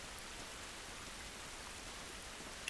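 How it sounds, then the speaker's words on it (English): Steady rain falls in the video game The Last of Us, a constant, even hiss of downpour with no pauses and no voices over it. "It's raining, but it isn't good."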